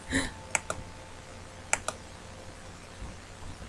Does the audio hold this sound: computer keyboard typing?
yes